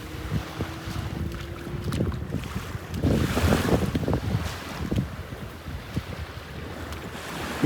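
Light east-northeast breeze on a quiet morning beach in North Naples, Florida, a steady windy rush buffeting the microphone, with soft surf washing in underneath and no talking.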